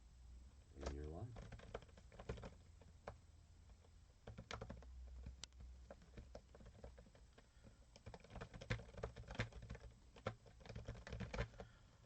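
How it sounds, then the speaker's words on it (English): Typing on a Sega SK-1100 computer keyboard, with irregular bursts of key clicks throughout, sometimes rapid and sometimes sparse, close and moderately loud, while a voice talks now and then underneath. "I'm just doing a little bit of work over here using my SK-1100 keyboard"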